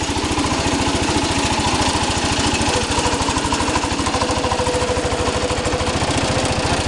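A 1968 Cub Cadet lawn tractor engine running close by with an incorrect muffler, a steady, loud, rapid chugging putter with rattles that holds an even pace throughout.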